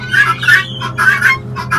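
Chickens on a farm clucking up close, a quick run of loud, throaty clucks in bursts with short gaps between them.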